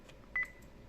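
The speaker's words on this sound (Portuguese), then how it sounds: "vou aqui no bip 7 para a gente verificar o bip que nós criamos juntos aqui" A single short electronic beep from a Voyager Ares-II radio transceiver, clean and steady, sounding briefly over faint background noise.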